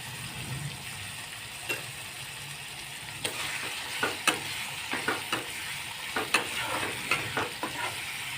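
Onions frying in a pan under a soft steady sizzle, with quiet stirring at first and then a run of repeated scrapes and taps from a spoon in the second half.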